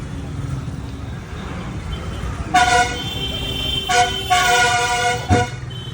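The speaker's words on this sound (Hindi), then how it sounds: "तो मार्केट में ट्रैफिक है और लोग शॉपिंग कर रहे हैं रक्षाबंधन की।" Busy market street traffic in Selaqui, Dehradun, during Raksha Bandhan shopping, with a steady roadway hum under several sharp car horn honks that come in short bursts, loud and fairly near.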